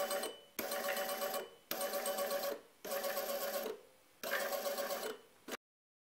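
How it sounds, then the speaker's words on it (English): A small DC motor salvaged from an old printer, run at 12V, whirs in five short bursts separated by brief pauses, each buzz fairly bright and mechanical, then silence. "This motor from an old printer is more powerful, here it's driven with 5V. At 12V, torque and so motor speed are increasing clearly."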